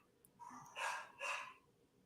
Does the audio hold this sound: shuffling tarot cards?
no